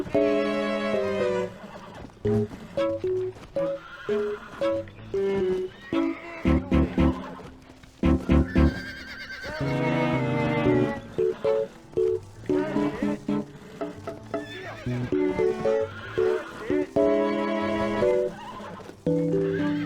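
A horse in Red Dead Redemption whinnies and neighs repeatedly and loudly over steady hoofbeats, with game music running underneath.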